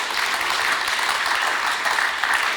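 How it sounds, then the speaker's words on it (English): An audience applauds at a live podcast recording during a medicines symposium, a dense, even wash of many hands clapping that holds steady and fairly loud for the whole stretch, with no voices rising above it. "round of applause, please."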